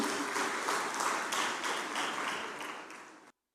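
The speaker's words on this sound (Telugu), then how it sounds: "చప్పట్లు కొట్టి దేవుని స్తుతిద్దాం" A church congregation clapping together in praise of God, a sustained, even wash of many hands applauding that slowly fades before cutting off abruptly.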